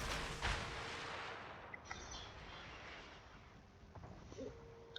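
Warship guns firing in World of Warships, a deep booming salvo at the start that fades into a long rumbling tail, followed by quieter distant game sounds.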